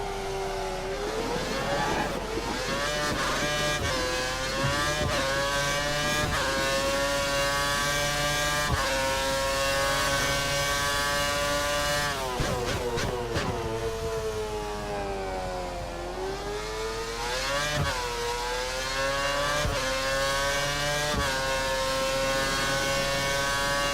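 A high-revving Formula 1 car engine in a racing video game screams continuously at Kuala Lumpur, its pitch rising and dropping sharply with gear shifts, loud and close throughout.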